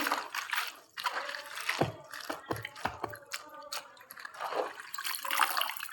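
Water splashes and trickles as cabbage leaves are rinsed, with irregular drips and soft handling noises, close by.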